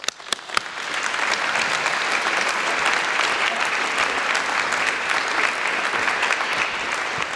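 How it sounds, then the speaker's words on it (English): Audience at a Poverty Truth Commission celebration event applauding as a speaker is introduced, a few sharp claps at first swelling into steady, dense clapping that holds throughout. "Round of applause for Sue."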